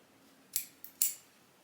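Scissors snip off the tail of a handmade cord plant hanger: three crisp, close cuts, the last the loudest, in a quiet room.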